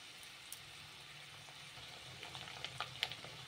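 Ginger paste frying with spinach in a pan, giving a soft, steady sizzle with occasional light crackles and stirring scrapes, quiet and close.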